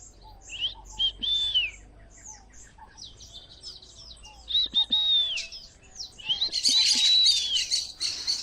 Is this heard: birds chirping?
yes